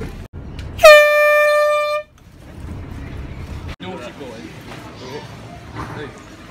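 An air horn fires one loud, brassy blast lasting about a second, cutting off abruptly, followed by people chatting and moving nearby outdoors.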